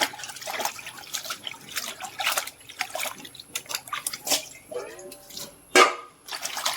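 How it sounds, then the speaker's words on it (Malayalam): Ash gourd leaves are dipped and swished in a tub of water, giving soft, irregular splashes and drips with one sharper splash near the end, while a person speaks over them. "നമ്മളൊരു ടബിൽ വെള്ളമൊക്കെ പിടിച്ച് ഇല നന്നായിട്ട് ഇങ്ങനെ മുക്കി മുക്കി എടുക്കുക"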